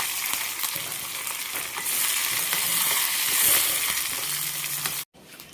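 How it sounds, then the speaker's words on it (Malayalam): Curry leaves and coconut pieces fry in hot oil with a busy, crackling sizzle that swells midway and stays loud and close, then cuts off abruptly near the end. "ഇനി നമുക്ക് കറിവേപ്പിലയും കൂടി ഇട്ട് കൊടുക്കാം."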